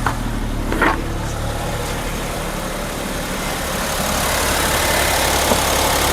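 A Suzuki Celerio engine idles smoothly after its knocking fault has been fixed, a steady low rumble that stays even and unbroken, growing slightly louder in the second half, with no voices.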